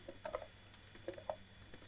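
Keys on a computer keyboard clatter in short irregular bursts while Python code is typed, several close, quiet taps and clusters with brief pauses between them.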